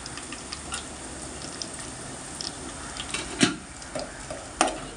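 One large onion frying in a pan for an eggplant, green mango and dried prawn curry, a soft steady sizzle with occasional sharper clinks and stirring scrapes, fairly quiet throughout.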